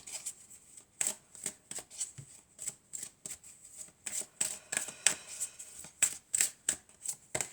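Tarot cards being shuffled in quick, repeated papery riffles and slaps, about a dozen crisp bursts in an even rhythm, close and fairly quiet with no talking.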